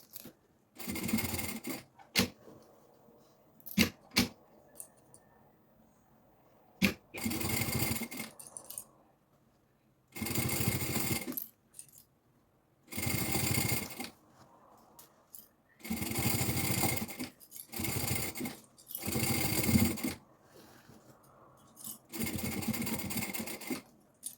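A sewing machine sews a preschool backpack with a pouch, in repeated short bursts of fast stitching separated by quiet pauses, loud and close.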